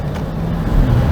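A 2022 BMW X7 with a 4.4 liter V8 accelerating, heard as a steady low engine drone from inside the cabin that swells slightly toward the end of the short stretch.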